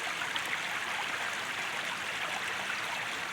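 Spring water flows out of the side of a hill in a valley after heavy rain, making a steady, even, close-up rushing hiss like a small stream, with no breaks or voices.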